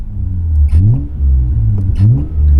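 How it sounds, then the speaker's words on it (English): A 1990 Toyota Chaser Twincam with an aftermarket exhaust revs up twice in a row, each sharp rise climbing over a steady low idle rumble, loud and close. "The car revs so freely and so nicely."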